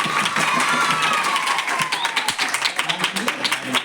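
Audience clapping together on cue at a church testimony gathering, a dense, steady patter of many hands close by, held for a few seconds with voices faintly mixed in.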